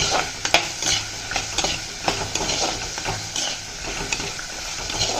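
Chopped vegetables sautéing in oil for a tamarind kuzhambu, a steady close sizzle broken by repeated scraping and clinking strokes of a ladle stirring through the pan.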